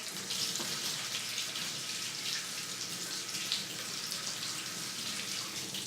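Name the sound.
water from tap rinsing hands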